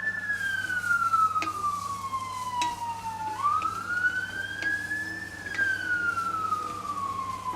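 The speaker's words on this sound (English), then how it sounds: "I think that's a fire truck." Several fire trucks pass with wailing sirens that sweep steadily up and down in pitch over a low background hum, moderately loud and continuous throughout.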